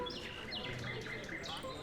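Scout birds in the real-time strategy game Empires, playing as Korea, give a few quick, faint chirps and tweets over a low, steady game background.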